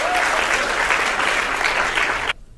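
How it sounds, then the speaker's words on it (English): Audience applause for Sahar at an onstage demonstration on feeling more attractive, a dense, steady burst of clapping that fills the room and then cuts off abruptly. "big round of applause for Sahar"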